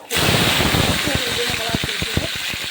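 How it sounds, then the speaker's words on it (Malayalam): Mustard seeds spluttering in hot oil in a home kitchen pan, a dense close hiss with rapid irregular pops and crackles that keep going throughout. "കടുക് പൊട്ടി വന്നിട്ടുണ്ട്"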